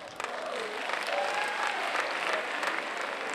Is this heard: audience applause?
yes